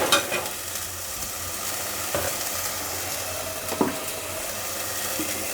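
Ginger and garlic sauté in a pan, giving a steady close sizzle punctuated by a few scraping stirs of a utensil over several seconds.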